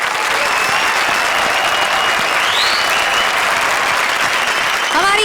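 A studio audience at the Comedy Circus comedy show applauds loudly and steadily, a dense unbroken wash of clapping lasting throughout with a slight swell at the end.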